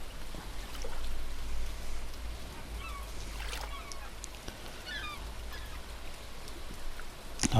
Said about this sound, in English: The sound of rain, that's where it's at.